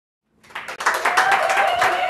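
Studio audience applause on a cooking show, a dense steady wash of clapping that swells in after a brief silence and holds loud and even to the end.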